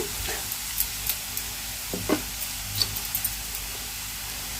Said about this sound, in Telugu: ఉల్లిపాయలు అనేవి దోరగా వేగిపోయినాయండి